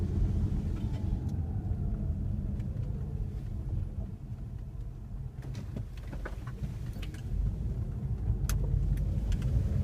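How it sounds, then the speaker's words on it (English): A car cruises onto the southbound I-5 freeway near Del Mar, its steady low road rumble and engine drone filling the cabin continuously, with tire noise swelling slightly as it picks up speed. "And we're gonna hop on the I-5 freeway south."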